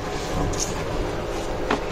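Steady rumbling of a train leaving Gaibandha railway station on rails with a faint rhythmic clatter, continuous and fairly loud, no voices.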